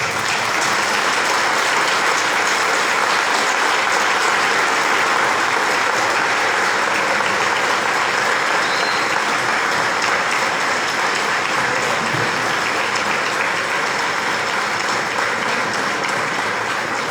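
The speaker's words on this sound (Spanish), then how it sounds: "Y le damos un aplauso." An audience at a church pastoral day bursts into loud, sustained applause, a dense, even roar of many hands clapping for the whole stretch with no speech over it.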